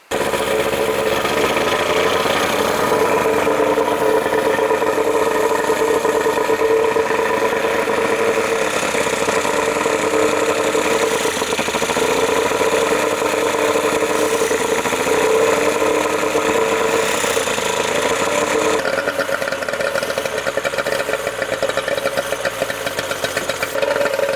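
A steady outboard boat engine runs continuously at a constant idle while being fogged for storage, with a droning mechanical hum and slight pitch wavers, no voices.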